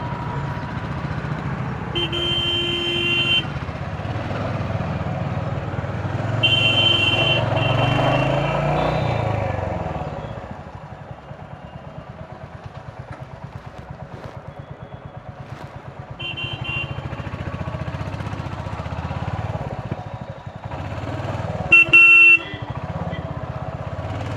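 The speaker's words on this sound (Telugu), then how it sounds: "Full traffic Jama." Roadside traffic jam on a mountain route with a constant rumble of car and motorcycle engines, broken by several short horn toots at intervals, one louder burst of honking near the end.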